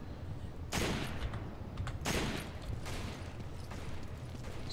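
Rapid automatic gunfire from a 30-round weapon in the Resident Evil 5 video game, loud dense bursts with brief pauses running through the whole stretch.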